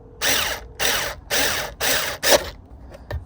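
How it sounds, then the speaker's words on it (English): A power drill fitted with a 6mm hex bit drives screws into a Tesla Model Y screen rotation mount, giving four loud ratcheting bursts close by, each about half a second, followed by faint clicks. "this here is a 6mm hex that I can put onto the drill here"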